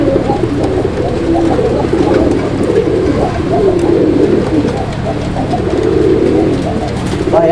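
A pair of black Lakha pigeons cooing loudly and close by, their soft, rolling coos overlapping in a steady repeated chorus over a constant low hum.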